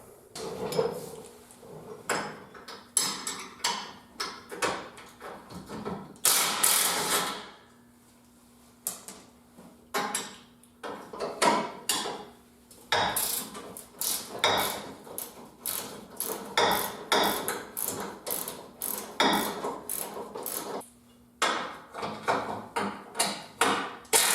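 Metallic clanks, taps and ratcheting tool sounds come from loosening the rear bumper bolts on a Jeep Wrangler YJ, close and irregular, with brief pauses between bursts.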